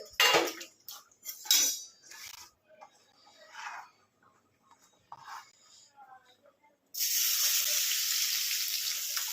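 A pan of vegetables hits hot oil and breaks into a loud, steady sizzle that continues at close range, following a stretch of people talking and light kitchen clatter.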